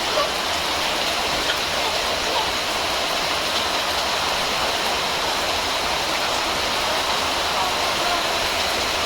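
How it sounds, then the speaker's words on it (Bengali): Steady rain falls close by in an even, continuous hiss that holds unbroken throughout with no clear voices. "দেখো কি সুন্দর বৃষ্টি হচ্ছে"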